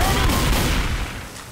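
A 12 gauge auto shotgun blast in the Left 4 Dead 2 video game, a single heavy booming discharge whose rumble fades out over a second and a half, with no talk.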